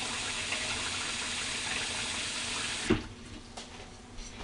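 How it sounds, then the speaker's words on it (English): Kitchen tap water runs over salsa in a pan for Spanish rice, a steady close rushing stream that cuts off abruptly, leaving faint clinks and quiet room tone. "I just kind of run the water over the salsa to get it all incorporated in there."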